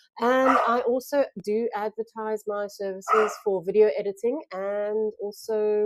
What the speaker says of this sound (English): I do apologize for the dogs playing in the background.